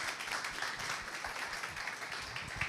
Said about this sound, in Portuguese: uma salva de palmas para Kaique